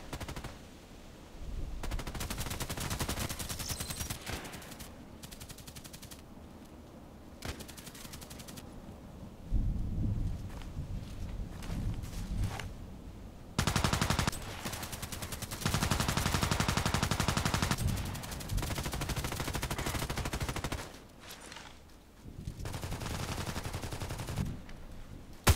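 Sniper rifle shots in a first-person shooter video game, with loud bursts of gunfire and booming reports coming in irregular clusters, some rapid and sustained, with no talk over them.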